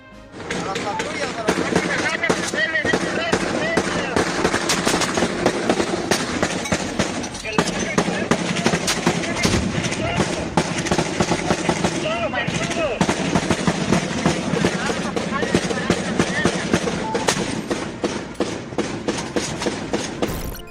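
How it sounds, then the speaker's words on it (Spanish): Sustained loud bursts of rapid gunfire crackle continuously with heavy booms of explosions mixed in, a dense, chaotic barrage from a Mexican cartel clash with voices shouting under it. "El sonido de los disparos y las explosiones demuestran el poder ofensivo del cártel."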